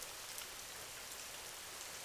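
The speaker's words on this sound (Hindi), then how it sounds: "बारिश तेज हो रही है" Steady, dense rain pours down in a Hindi cartoon street scene outside a shop, an even close hiss of drops with no gaps and no voices.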